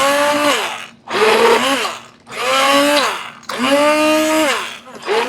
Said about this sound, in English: Then we're just going to come in with this stick blender.